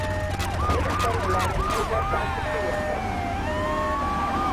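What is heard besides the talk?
ambulance siren in GTA video game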